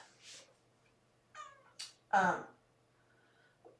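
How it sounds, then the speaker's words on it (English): A pregnant stray mother cat meows a few times, short calls separated by pauses, with one louder, longer meow near the middle and a faint sound at the end, in an otherwise quiet room. "we're going to have this mom cat stay with us"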